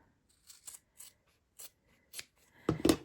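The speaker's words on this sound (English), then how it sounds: "So let's trim off a 1/4 inch from that seam we just sewed." Scissors trimming a quarter inch of fabric seam allowance on a quilted heart heating pad: several short, crisp snips close up, spaced irregularly and ending in a louder double cut, with no talk.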